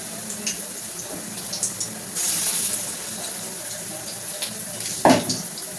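Drumstick flower fritters being dropped into hot oil, giving a steady low sizzle with a sudden louder hiss and splash as batter hits the pan near the end.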